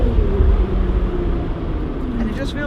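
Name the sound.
Lotus sports car accelerating at half throttle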